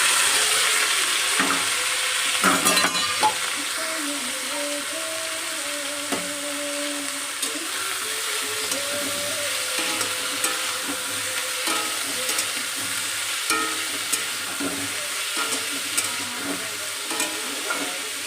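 Ash gourd pieces and green chilies fry in hot oil with black cumin in a pan, a steady bright sizzle running throughout with scattered scrapes and clinks of stirring, close and fairly loud.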